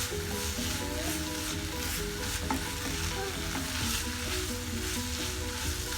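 Salted tuna fish pieces fry in a pan with a loud, constant sizzle and crackle that holds steady for six seconds, without any talking.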